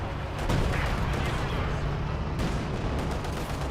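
Battlefield explosions and gunfire from the World War II strategy game Company of Heroes 2, involving a KV-1 tank, roar as a dense, continuous wall of noise with sharp bursts layered throughout.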